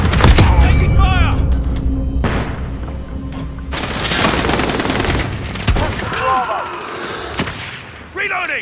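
Rapid gunfire and explosions in Call of Duty Modern Warfare, dense overlapping bursts of automatic fire and booms with game voice callouts mixed in.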